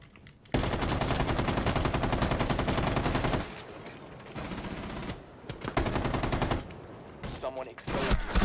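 Rapid automatic gunfire in a Rainbow Six Siege match, loud continuous bursts lasting several seconds before breaking into shorter stuttering volleys, with a player's voice faintly underneath.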